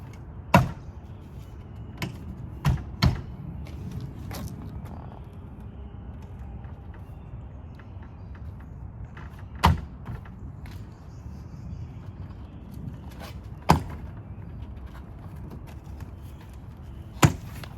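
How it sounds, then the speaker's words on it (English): A door panel is fitted back onto a 1982 Jeep Wagoneer, with sharp plastic clicks and knocks scattered irregularly over a quiet background as the tabs are pressed into place. "this is probably the hardest part of getting the door panel back on."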